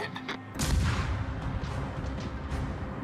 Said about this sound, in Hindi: अभी वो देखो वहाँ से तोपे चल रही हैं